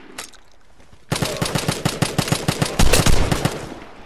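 Rapid automatic gunfire from the video game Vigor, preceded by a few scattered shots and then a loud, sustained burst of closely spaced rounds lasting about three seconds.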